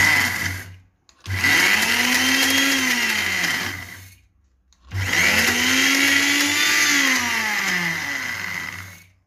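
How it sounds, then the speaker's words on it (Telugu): A kitchen mixie grinder blends tamarind-laced tomato pickle in two loud, continuous whirring bursts, the motor pitch rising and falling, separated by a short pause. "దానికోసం మిక్సీ పడాల్సిందే"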